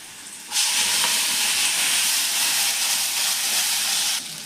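Tomato puree hitting hot oil with chilies for an egg curry, a loud, steady broadband sizzle that starts abruptly and holds for several seconds before easing off.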